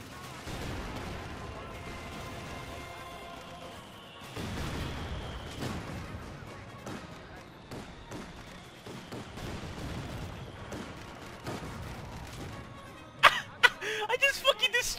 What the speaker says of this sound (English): Oh yeah, mortars.